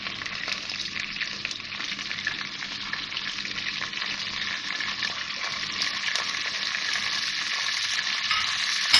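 Spices for egg korma sizzle steadily in a hot pan with a little water added, a continuous close hiss with faint stirring scrapes and no talk.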